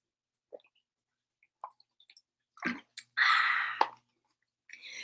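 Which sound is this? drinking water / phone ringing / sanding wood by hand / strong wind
drinking water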